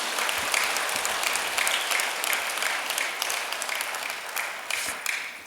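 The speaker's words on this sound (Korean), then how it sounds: "천승교회에서 신앙의 뿌리를 내릴 수 있도록 환영의 박수 부탁드리겠습니다." Welcoming applause from a church congregation during a Sunday worship service, dense steady clapping from many hands filling the room, loud and continuous throughout.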